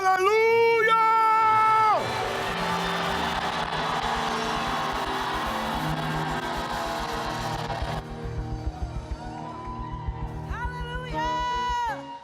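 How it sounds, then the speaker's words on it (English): A church congregation at a New Year's Eve crossover service shouts and cheers together in a loud crowd roar, with music and an amplified voice at the start and end. "Somebody, anybody, shout hallelujah!"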